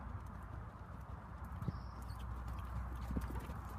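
A horse canters in an arena, its hooves giving a steady, rhythmic clip-clop at moderate distance, with faint ambient noise and brief background sounds.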